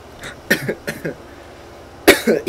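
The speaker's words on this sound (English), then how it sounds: "I promised I wouldn't cough at all for the rest of my life after this" A person coughs in two short bursts of several coughs each, close and fairly loud, with a quiet pause between them.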